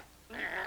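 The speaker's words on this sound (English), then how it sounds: "I think I hear a dog." Dog growling with a rising whine that starts suddenly partway through, close and fairly loud, brief, with no one speaking.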